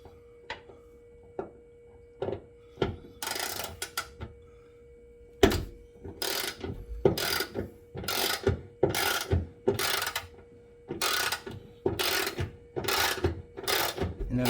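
Ditch light mounting bolt being loosened on a Toyota 4Runner, heard as a long series of sharp ratchet clicks, sparse at first and then in dense rapid bursts, close up with no talking.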